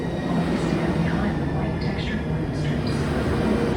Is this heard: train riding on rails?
yes